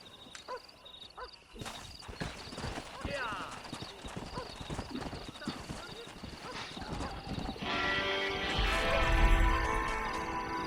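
Hooves clip-clop at a gallop in the Red Dead Redemption video game, a steady rhythmic pounding with occasional whinnies, mixed with other game sounds and rising to a louder, denser burst near the end.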